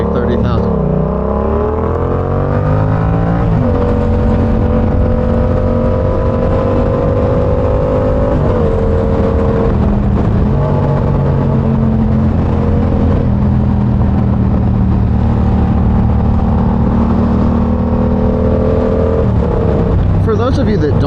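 Yamaha R7 motorcycle exhaust under way, a loud continuous engine drone that rises and shifts pitch as the rider goes through gears.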